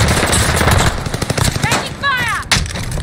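Automatic gunfire rattles loudly in the Warzone video game during a battle in Operation Monarch, with bursts continuing throughout alongside other game sounds and a brief whistling tone near the end.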